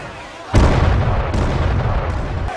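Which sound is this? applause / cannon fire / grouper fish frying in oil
cannon fire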